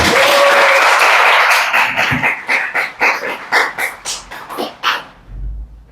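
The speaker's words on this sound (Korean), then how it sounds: "박수 한번 주세요." A church congregation at a Sunday worship service breaks into applause, first a dense wash of clapping that then thins into a few scattered, uneven claps before fading out.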